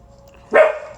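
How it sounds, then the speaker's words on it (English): A pet dog gives one sharp, loud bark close to the microphone indoors, starting abruptly after near silence and then trailing off quickly. "Sorry about if you hear this barking."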